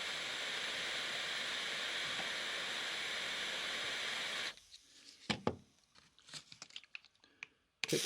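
A gas torch heats a brass capped rivet dipped in brazing flux, giving a steady, close, roaring hiss for about four and a half seconds before it cuts off, leaving faint clicks and handling noises.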